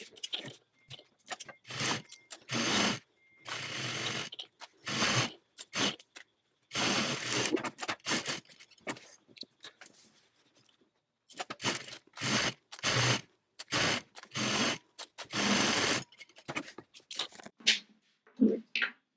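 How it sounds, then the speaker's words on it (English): A sewing machine edge stitches down the sides of a fabric tote bag, running in repeated short bursts of stitching separated by brief pauses. "now we're going to edge stitch down each of these sides"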